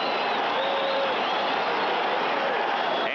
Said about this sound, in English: Crowd says go for it.